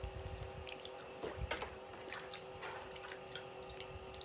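Running tap water splashes over two hands being washed, a low steady gush with scattered drips and small splashes, fairly faint and close.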